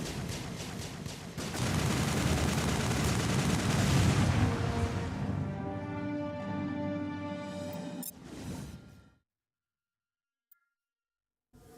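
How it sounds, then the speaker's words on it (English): A long burst of heavy gunfire rattles through a Mass Effect battle, loud and dense for several seconds. It then thins into ringing tones and stops abruptly, leaving near silence broken by one faint click. "What are you shooting at?"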